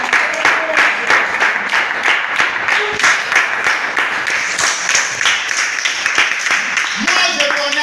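A church congregation applauds in steady, rhythmic claps during a worship service, with voices mixed in throughout.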